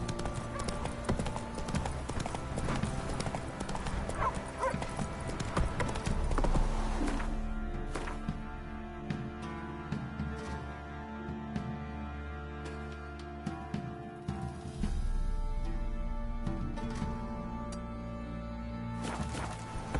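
A horse gallops in the video game The Witcher 3, its hooves clip-clopping steadily and evenly over layered game music and ambience, a close and continuous beat.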